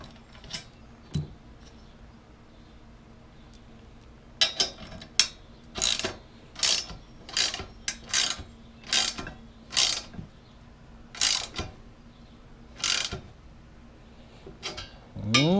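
Repeated ratchet clicking as a 5/8 bolt is tightened while assembling a Wen 6.5-ton log splitter, bursts of rapid pawl clicks in an irregular rhythm, close and fairly loud with no talk.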